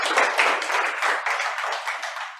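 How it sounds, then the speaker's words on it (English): Audience applause at a presentation for the company EMGUARDE, a dense, steady burst of clapping heard close and fairly loud for a couple of seconds. "Can we give EMGUARDE a big round of applause?"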